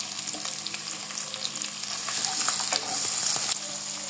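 Prawns with chopped onion and green banana fry in a pan, a bright close sizzle with scraping stirs and small pops, swelling a little louder partway through, with no voices.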